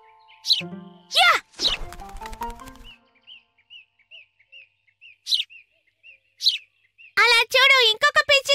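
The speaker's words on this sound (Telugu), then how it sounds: "అలా చూడు, ఇంకొక పిచ్చుక." High, thin cartoon sparrow chirps repeat in a quick, evenly spaced run through the middle, sitting between bursts of animated character voices at the start and end.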